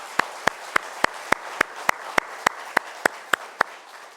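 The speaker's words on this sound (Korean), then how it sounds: "우리 모든 영광을 하나님께 올려드리며 큰 박수로 함께 영광 돌렸으면 좋겠습니다." A church congregation claps in unison during a Sunday afternoon praise service, about a dozen sharp, evenly spaced claps at a steady beat, fairly soft and with no talk over them.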